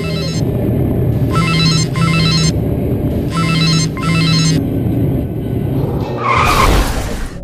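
A mobile phone ringtone trills in repeated bursts inside a moving car, then tires squeal loudly as the car skids near the end, with no speech.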